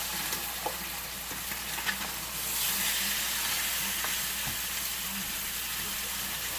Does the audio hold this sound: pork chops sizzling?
yes